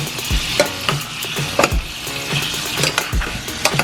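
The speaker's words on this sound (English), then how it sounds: "Just going to shake it around to get some of that butter" Vegetables tossed in a pan of sizzling butter with thyme, a steady close frying hiss broken by several sharp clattering shakes of the pan at a loose, irregular rhythm.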